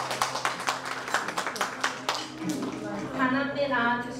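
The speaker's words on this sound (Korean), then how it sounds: "박수 한번 주세요" Rhythmic hand clapping at a child's first-birthday party fills the first half, fading as talk and a voice take over toward the end.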